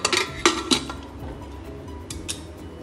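Metal lid of a pressure cooker being closed on the stove, a few sharp metallic clinks and clanks close by with quieter knocks afterward, no talking.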